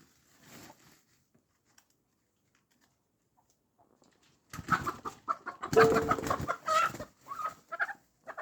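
Chickens cluck and squawk in a busy burst after a quiet stretch, close by, with a brief faint cluck near the start.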